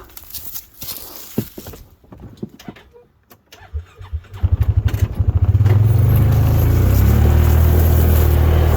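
The engine of a Ranger utility vehicle rises from scattered knocks and quiet into a loud, steady, close rumble that grows as the machine approaches and stays strong to the end.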